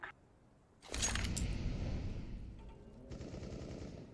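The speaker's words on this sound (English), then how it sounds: "Throwing a flashbang." Counter-Strike: Global Offensive flashbang going off: a sudden loud burst followed by a long ringing, hissing tail that fades, then a steadier high noise, with no talk.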